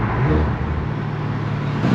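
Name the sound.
Audi car driving on the road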